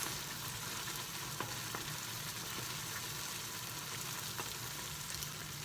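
Tel peynir string cheese stirred in melted butter in a pan gives a steady, close crackling sizzle throughout, with a few faint scrapes of the spoon and no voices.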